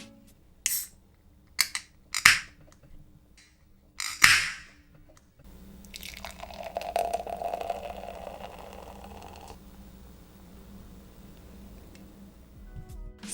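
A can of West Coast style IPA from Tapworks Brewing Company cracks open with a few sharp clicks and a hiss, followed by a steady foaming pour that fades out, close and clear with no talking.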